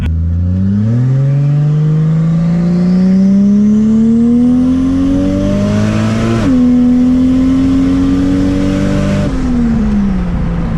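Turbocharged Lexus IS300 accelerating hard from inside the car, the engine note climbing loudly through the revs, dropping sharply at a gear change, rising again, then easing off near the end.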